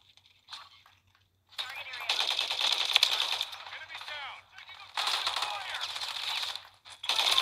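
Machine gun fire in Call of Duty Modern Warfare 3, with long rapid bursts of close gunfire separated by short pauses and a few single shots, loud and dense across most of the stretch.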